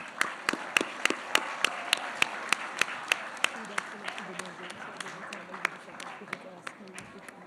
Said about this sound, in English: Audience, could we have a huge round of applause?